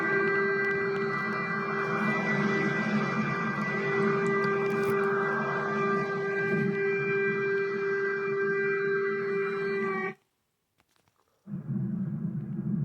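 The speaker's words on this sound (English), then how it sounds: "More siren." A siren wails in a steady sustained tone from far off with a low rumble beneath, breaking off briefly to silence before resuming.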